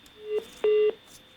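Phone line tones sound after a caller's connection drops during a live TV call-in health show: a short steady beep, then a longer, louder tone, with a faint hiss between.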